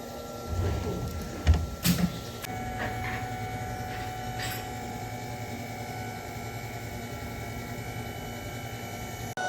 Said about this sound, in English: So first, I will show you the gear machine.